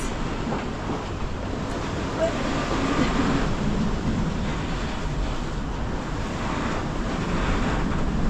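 Steady broadband rush of wind and sea waves around a sailboat on the way to Alaska as the seas ease, a continuous moderately loud wash with no speech.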